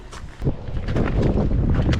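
Gusty wind at the Grand Canyon buffets the microphone with a low, rumbling roar that swells and stays strong, with a faint rustle or step early on.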